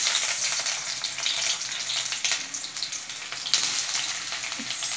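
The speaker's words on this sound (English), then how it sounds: "Yeah, my oil is done. I'm adding my onions." Onions go into hot oil for a Hyderabadi-style mutton curry and fry with a loud, continuous, close sizzle that swells and crackles unevenly, with no talking.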